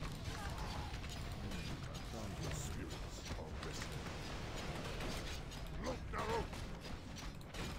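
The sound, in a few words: siege machines attacking in Warcraft 3 video game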